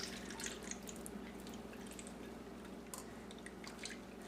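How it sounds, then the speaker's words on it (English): Leche flan custard of egg yolks is poured through a strainer into a pan of set caramelized sugar, giving a steady, soft liquid trickle and dripping that runs throughout without talk. "Hold a strainer over your prepared pan. And then we're going to pour the custard in."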